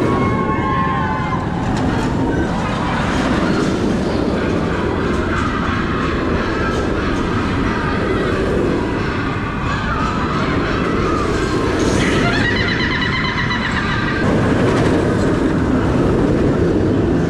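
Steady rumbling ride noise with rattling and clacking of The Smiler roller coaster train at Alton Towers running on track in the rain, swelling and easing in waves, with faint screeches.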